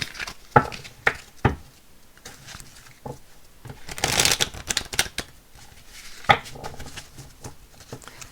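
Someone shuffles a Rider-Waite tarot deck: several sharp riffling bursts and soft card slaps come at irregular intervals, with one longer crisp riffle in the middle, close and clear with no talking.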